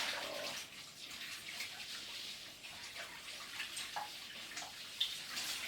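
Strawberry cider poured down a sink, a steady faint splashing, running-water wash with a few small gurgles and drips, and no talking.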